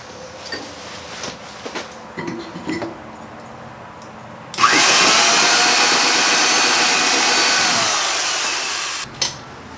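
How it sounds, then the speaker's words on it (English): After a few light knocks and handling sounds, a power drill whirs loudly and steadily for about four seconds, drilling through a 19.5-inch truck fender on a one-ton truck, then stops, close by. "So now what we need to do is just pop the drill through real quick, mark these"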